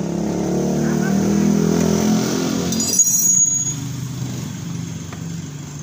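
A Honda Vario 125/150 scooter engine with a faulty cam chain tensioner runs loud and close, a steady mechanical drone that dips and shifts partway through.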